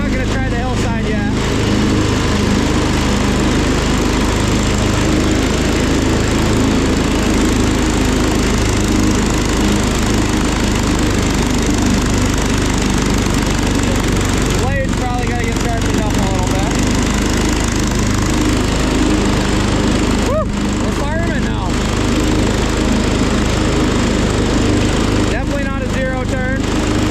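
A John Deere 112 garden tractor mows a lawn still damp after recent rain, its engine droning steadily and loudly close by throughout, with brief clattering bursts from the cutting deck and faint voices in the background.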